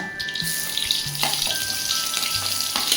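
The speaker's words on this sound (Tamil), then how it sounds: "சோம்பு சேர்த்து இந்த மாதிரி கரண்டி வச்சு லைட்டாக வந்து அமுக்கி விட்டுக்கோங்க சரிங்களா சவுண்டு இப்படி தான் கைஸ் கேட்கும்" Fennel seeds fry in hot oil in a pan, giving a dense, bright crackling sizzle as a ladle presses them, with a few soft knocks from the ladle and no talking.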